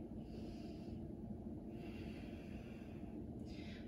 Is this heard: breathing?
yes